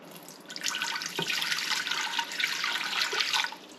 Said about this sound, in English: 3 cups of water.